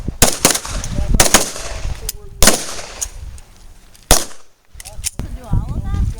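Pistol shots ring out at a self-defense shooting practice, several sharp loud cracks spaced irregularly with echoing tails, mixed with voices of people talking between shots.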